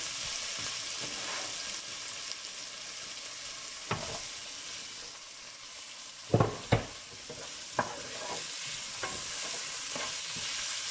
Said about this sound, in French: Donc, je mélange mes oignons.